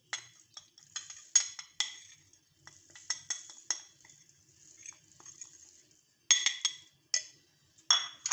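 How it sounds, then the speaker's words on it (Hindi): Kurkure snacks mixed with spices by hand in a bowl, crisp pieces rustling and clinking in quick bursts of crunchy patter with short pauses, close and fairly loud. "अच्छी तरह हाथों की मदद से इनको सबको मिक्स कर लेंगे"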